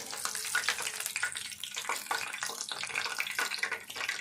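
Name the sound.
frying green chilli fritters (mirchi bajji) in oil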